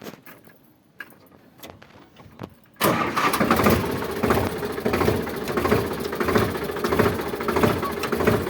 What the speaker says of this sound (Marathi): बघा ट्रॅक्टर लावू आपण इकडे साईडला